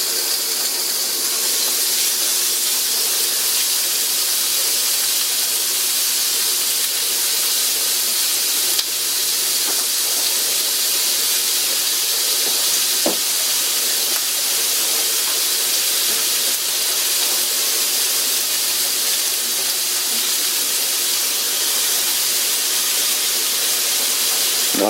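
Steak sizzles in olive oil in a cast iron pan for fajitas, a loud, constant, close hiss that holds steady throughout with only faint clicks, no talk.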